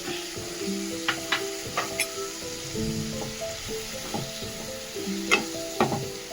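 Capsicum, onion and tomato sabji with curd and peanut powder being stirred in a pan, a steady soft sizzle under repeated scraping strokes of the spoon, close and moderately loud, with no talking.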